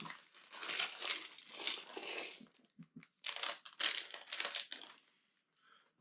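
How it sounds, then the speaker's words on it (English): Plastic bags from a Lego Harry Potter building set crinkle and crunch in close, loud bursts, with brief pauses between handfuls and no talking. "there's certainly a lot of plastic bags involved in Lego"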